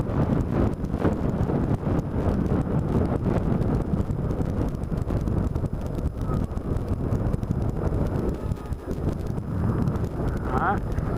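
Strong wind buffets the microphone on a Yamaha FZ-07 motorcycle ride, a loud, constant low roar through the whole stretch, with a rider's voice partly heard beneath it.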